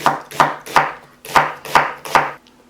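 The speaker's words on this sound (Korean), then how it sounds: "슬라이스로 얇, 얇게 썰어줍니다" Six crisp knife strokes thinly slice an onion on a cutting board in a steady rhythm, close up, with no talking.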